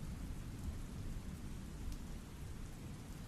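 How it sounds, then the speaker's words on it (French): Rain drumming against the windows, a steady, even hiss of dense drops with a low rumbling undertone, soft and continuous throughout. "La pluie tambourine contre les fenêtres"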